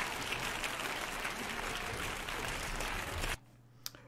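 A crowd applauds steadily for about three seconds, a dense even clatter of clapping, then it cuts off abruptly into near silence broken by one faint click.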